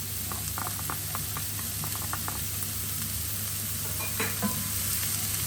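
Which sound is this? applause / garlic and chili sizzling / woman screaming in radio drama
garlic and chili sizzling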